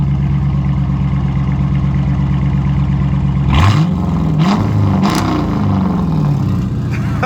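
A straight-piped 2014 Dodge Charger R/T idles with a loud, steady rumble, then is revved several times in sharp, rising blips that sweep up and fall back, close and raw.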